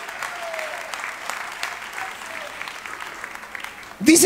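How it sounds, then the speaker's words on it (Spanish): Congregation at a Spanish-language church service applauding, a steady, moderate wash of clapping with a few voices underneath, cut off by a sudden loud burst at the very end. "Denle un aplauso al Señor de alabanza"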